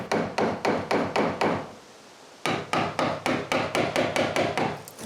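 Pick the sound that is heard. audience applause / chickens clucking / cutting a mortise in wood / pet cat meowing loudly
cutting a mortise in wood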